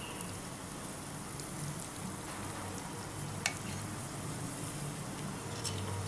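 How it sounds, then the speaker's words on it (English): Chicken pieces deep frying in hot oil in a pan on high flame, a steady dense sizzling crackle with a few sharper pops, close and continuous with no talking. "We have to fry these pieces till crispy."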